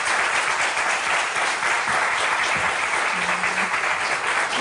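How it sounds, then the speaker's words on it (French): A television studio audience on a French talk show breaks into sustained applause, a loud, even wash of clapping that holds steady throughout. "On peut les applaudir."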